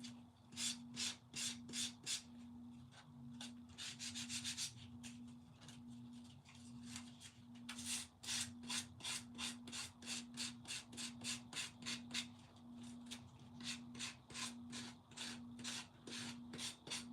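Sandpaper rubs over the edges of a handmade wooden craft piece in quick back-and-forth strokes, a steady run of close, scratchy rasps, with a constant low electrical hum underneath.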